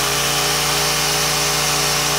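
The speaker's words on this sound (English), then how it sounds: "so I'll clamp them together and sand their edges all at once" A random orbit sander runs on the edges of wooden boards clamped together, giving a loud, steady, unbroken whine and hum close by.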